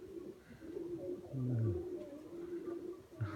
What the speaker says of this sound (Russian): это тоже старый голубь очень